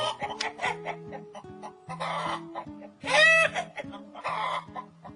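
Several chickens cluck and squawk nearby in quick, overlapping bursts, with one louder, drawn-out squawk in the middle.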